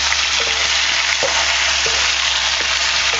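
Eggplant sautéing with garlic in a pan gives a loud, steady close-up sizzle with a faint low hum beneath and a few soft clicks of stirring at regular intervals.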